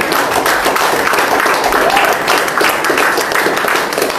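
A church congregation at a French-language service bursts into loud applause and cheering, a dense sustained wave of clapping with crowd voices mixed in from start to finish.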